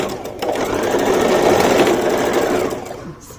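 Close and loud, a sewing machine runs a continuous stitch for about three seconds along a kaftan neckline, then slows and stops.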